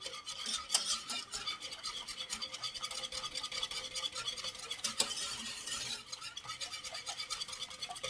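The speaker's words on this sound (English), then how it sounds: "I'm just gonna whisk each one in separately." Steady scraping and stirring of a whisk mixing gravy mix into water in a pot, continuous and brisk, with a light rasping texture throughout and no talking.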